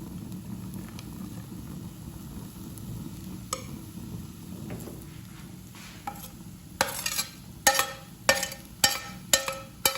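A spoon stirs steamed nenthrapazham banana with ghee-fried cashews and raisins, starting as faint scraping under a low steady background and building near the end into a run of distinct, fairly loud scrapes and clinks against the pan.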